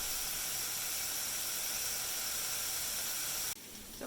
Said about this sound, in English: Get your pan on medium high, and start browning your bacon